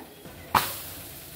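Paratha roasting in a hot pan: a sudden loud hiss flares up and then settles into a softer, steady sizzle.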